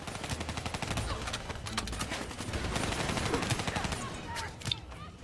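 Rapid automatic gunfire crackles continuously in the Call of Duty Black Ops 3 campaign, with bursts of shots and impacts layered together at steady, fairly loud volume.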